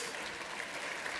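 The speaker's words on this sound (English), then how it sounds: "Let's give another big round of applause to the leaders" Crowd at a chamber of commerce regional business gathering applauding island leaders, a short burst of full, even clapping.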